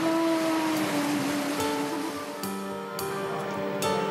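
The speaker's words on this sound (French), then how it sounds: "La houle et les vagues l'emportent." Sea swell and breaking waves on the Tunisian coast, a continuous loud wash of surf with a steady hiss, heard close and alone.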